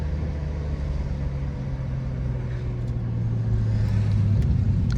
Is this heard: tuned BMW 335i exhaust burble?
yes